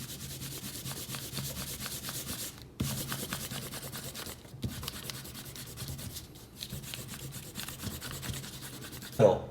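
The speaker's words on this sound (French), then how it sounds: "on peut gommer nos traits de construction" A pencil eraser rubs back and forth over paper to clear construction lines from a Buzz Lightyear drawing, giving a close, steady scrubbing hiss with a few brief pauses.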